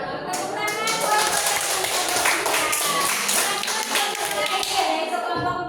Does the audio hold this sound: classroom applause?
yes